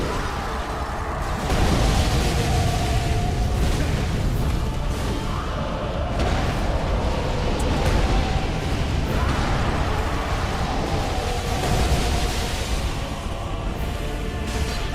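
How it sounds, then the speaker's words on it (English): A loud, rumbling explosion in the game Dark Souls 3 during a boss fight in the Painted World, a dense continuous roar of blast noise that lasts throughout. "Explosion."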